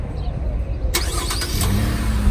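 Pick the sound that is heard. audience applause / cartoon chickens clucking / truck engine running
truck engine running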